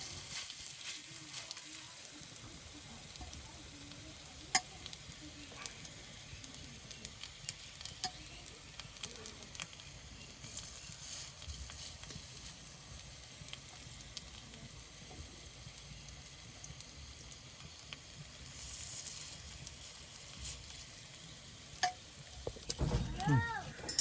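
Lentil fritters (bora) fry in oil on a clay stove outdoors, giving a continuous close sizzle with crackling bursts and occasional scrapes of stirring.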